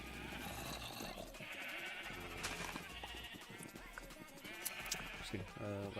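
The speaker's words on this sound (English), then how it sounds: "Oh, I have so many sheep as well." Sheep in Minecraft bleat repeatedly among a dense, busy layer of game sound, with the calls fairly loud and overlapping rather than standing alone.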